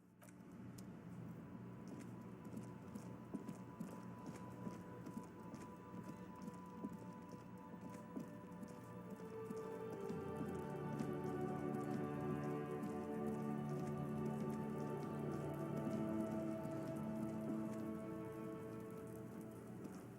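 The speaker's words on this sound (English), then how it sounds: "It's raining again." Steady rain in the video game Disco Elysium patters on surfaces, growing denser and louder partway through, with a low continuous hum beneath the drops.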